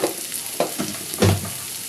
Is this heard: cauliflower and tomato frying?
yes